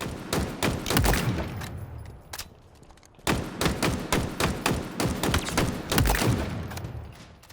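Repeated shots from the Commando rifle in Halo Infinite, sharp punchy reports in quick strings with brief pauses between bursts, loud and close, accompanied by thuds of impacts and no talking.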